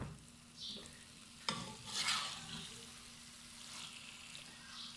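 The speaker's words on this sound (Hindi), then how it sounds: "जब हम इसको घी में ब्राउन करते हैं हल्का सा" Arbi and eggplant are stirred and browned in ghee over low heat, with a soft steady sizzle and occasional scraping stir noises, faint and close.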